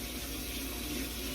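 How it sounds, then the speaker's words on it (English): Tap water runs steadily from a kitchen faucet while hands are rinsed during turkey gravy preparation, a continuous close hiss with no talk over it. "So let me lay this over here and rinse my hands."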